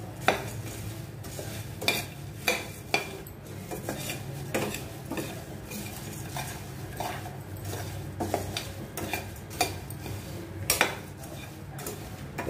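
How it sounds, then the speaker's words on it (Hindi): A spoon stirs spiced puffed rice (murmura) namkeen seasoned with salt and amchur powder in a pan on a gas stove for bhel puri, giving repeated scraping and sharp clinks against the metal, close and steady, with no talk. "अब इन सबको अच्छे से मिक्स कर लेंगे।"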